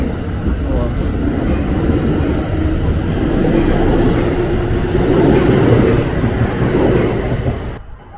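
A train rumbles past in a steady, loud roar that holds for several seconds, then cuts off abruptly.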